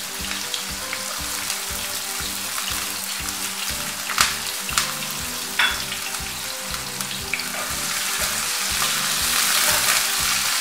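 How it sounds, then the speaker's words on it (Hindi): Onions frying in hot oil in a pan, a constant loud sizzle with a few sharp crackles and stirring knocks, heard close and without voices. "अब इसमें हम ऑयल शामिल करते हैं। प्याज शामिल करते हैं।"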